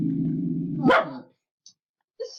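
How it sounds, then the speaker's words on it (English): Outside a nightclub, a dog lets out one loud, close bark that cuts off a low sustained growl, followed by brief faint sounds and silence, with no talk. "who took that dog outside the nightclub? That's just stupid. Yeah, So loud."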